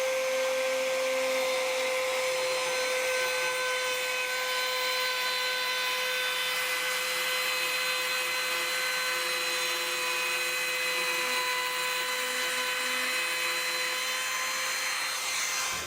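A DeWalt 18V cordless trim router runs continuously with a steady high-pitched motor whine, loud and close throughout with no voices.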